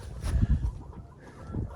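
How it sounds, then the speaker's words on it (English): Chickens cluck in low, throaty bursts close by, several short calls clustered together with a steady outdoor hiss in the background. "I'm told that there's some chickens that come out and hang out with the ducks"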